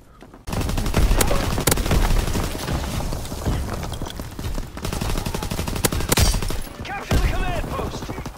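Light machine gun fire in a video game, loud sustained bursts of rapid automatic shots with brief gaps, mixed with game sound effects.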